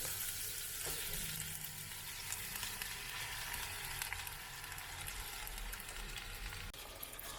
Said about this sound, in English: So I just got some olive oil in this pot, and I'm going to saute these onions.